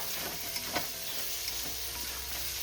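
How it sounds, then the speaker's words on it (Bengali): Rice fries with spices and tomato in a pan for muri ghonto, giving a steady, fairly quiet sizzle with faint stirring taps, and no voices. "এবার আমি ভালো করে মশলার সাথে কষিয়েও নেবো তাতে আমার চালটাও ভাজা হয়ে যাবে"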